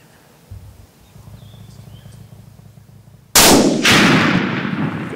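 A rifle gunshot on a hog hunt: one loud, sharp crack ringing out across open ground, with a second blast or echo following half a second later, after a few seconds of quiet outdoor ambience.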